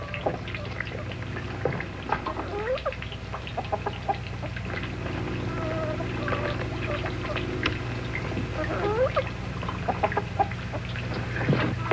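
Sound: chickens clucking on a farm

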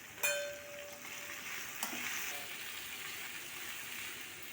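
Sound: okra being fried and stirred in a pan

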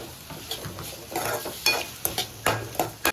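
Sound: green chilli added to a frying pan, sizzling while stirred

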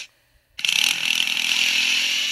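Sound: drill running in a video game (Escape The Prison)

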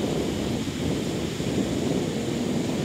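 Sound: wind on a lake beach

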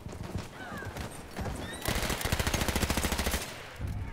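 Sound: horse neighing in video game Battlefield 1

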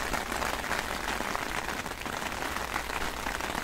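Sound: rain falling

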